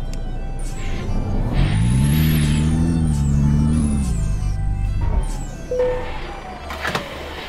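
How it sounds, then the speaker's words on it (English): A Kenworth K100 truck in Euro Truck Simulator 2 idles with a low, steady engine drone, followed by a short hiss as the air brake releases near the end. "Parking brake off."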